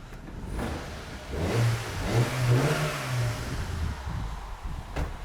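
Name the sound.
car engine revving during diagnostic test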